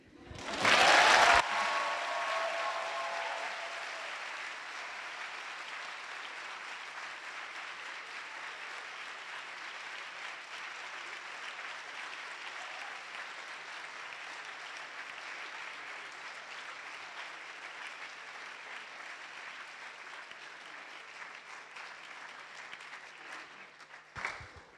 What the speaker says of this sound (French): J'avais dit pas d'applaudissements.